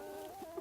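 Chickens at a homestead chicken tractor give a couple of soft, brief clucks over a faint, steady background hum.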